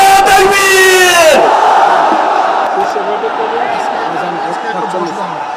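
Large crowd at a political rally at Paltan crossroads in Dhaka shouting a unison chant in reply to a religious slogan, a loud sustained roar of many voices that swells and then fades into broad crowd noise.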